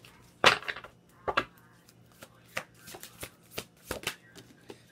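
Oracle cards being shuffled by hand, a series of crisp riffling bursts and soft taps spaced irregularly, close and clear with no talking.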